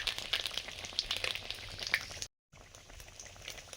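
Large fish pieces fry in hot oil with panch phoron, making a close crackling sizzle with sharp spits and pops. The sound breaks off briefly, then returns as a softer steady hiss.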